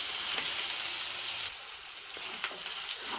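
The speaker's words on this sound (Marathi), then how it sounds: "अद्रक लसणाचा कच्चापणा जाजेलो थोडं त्याला तेलात खालीवर फ्राय करून घ्यायचं" Ginger-garlic paste sizzles steadily in hot oil for a goat brain fry, a continuous close crackle with small pops and a brief dip in intensity midway, no voices.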